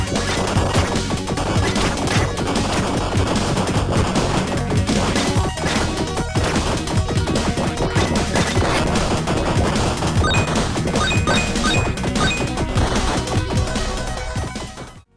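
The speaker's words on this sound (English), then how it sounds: "its screen-filling explosions and great color" Dense, relentless video game explosions and crashing blasts fill the screen and pile up continuously over a busy, loud mix of game sound, played on an Analogue Mega Sg console, with no pauses throughout.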